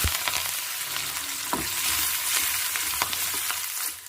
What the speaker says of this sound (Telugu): అదే ఆయిల్లోకి 1 స్పూన్ ఆవాలు జీలకర్ర వేసుకుంటున్నాను.